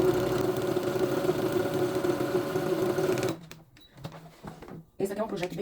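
A sewing machine runs steadily, stitching a foundation-pieced quilt block along a marked line, loud and continuous for a few seconds before stopping abruptly, followed by quieter handling noises and rustling.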